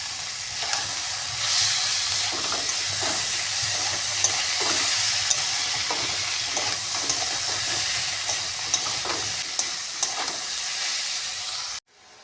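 Small chuno fish with potato, bitter gourd and drumstick being stir-fried in a pan throb with continuous loud sizzling and hissing steam, punctuated by repeated scraping strokes of a spatula before the sound cuts off abruptly at the end.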